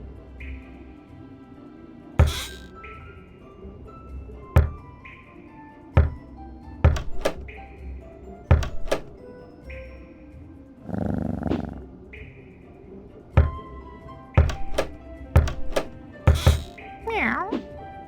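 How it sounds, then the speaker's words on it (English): Several sharp wooden knocks on a castle door land in short clusters over an interactive Puss in Boots storybook game's soft background music, with a brief creaky sound effect partway through. "Knock on the correct door, then move Puss into the next room."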